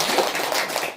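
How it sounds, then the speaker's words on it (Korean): A brief patter of hands clapping, a short dense burst of claps heard close. "그 박수 한번 쳐줘 좀"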